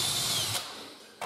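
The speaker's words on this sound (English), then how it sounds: "I'll just pre-drill just to make it easier for myself." A power drill pre-drills holes while a Vauth Sagel pull-out bin is fitted into a kitchen cabinet. The motor gives a short, close, steady whine that eases off, then briefly spins up again at the end.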